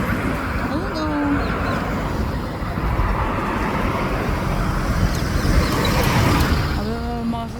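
Cars passing on a busy road, a continuous loud traffic rumble with vehicles going by close, while a person talks over it.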